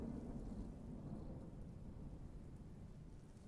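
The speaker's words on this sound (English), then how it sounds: "I'm hearing thunder." Low, soft rumble of distant video game thunder in Smalland, rolling continuously, with a faint rain-like hiss underneath.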